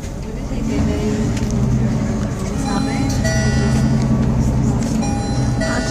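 A Sita bus travels along the winding Amalfi Coast road, its engine and road rumble steady and close throughout while passengers talk over it.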